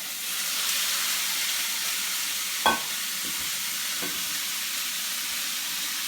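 Meat going into a hot pan with onions for a teriyaki stir fry hisses in a loud, even sizzle, broken by a sharp utensil clink and a second fainter tap, with no talking.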